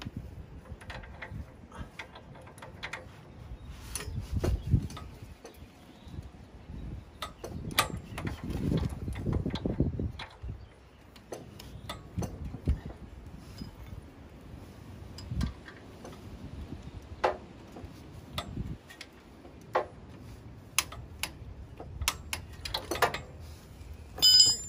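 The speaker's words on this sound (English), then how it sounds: "our last step is to torque the sway bar bolts to 60 foot-pounds" Sparse, sharp clicks from a torque wrench tightening Jeep JLU sway bar bolts to 60 foot-pounds during an AEV coil install, scattered across a quiet, rustling garage background with no talking.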